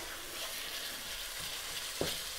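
Mutton keema sizzling steadily as it fries in a pan, with a sharp scrape of stirring near the end; a continuous close frying hiss with no talking.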